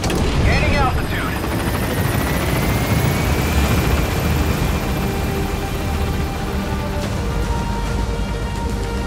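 Helicopter rotors thrum continuously as the aircraft gains altitude in the video game Metal Gear Solid V, a loud, steady whirring roar that fills the whole stretch without letting up.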